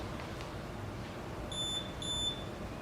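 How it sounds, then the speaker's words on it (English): Two short electronic beeps from a police body-worn camera switching on, about half a second apart, ring out clearly over a steady low background hiss. "You have the beep that tells them it's on"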